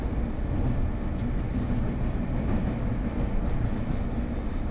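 Intercity train travelling between Lisbon and Beja, a steady, loud rumble of wheels and carriage noise heard from inside, continuous throughout with no pauses.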